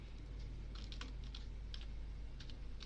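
A computer keyboard typing a value into an Excel cell, several crisp key clicks in short bursts over a steady low hum, close and clear with no talking.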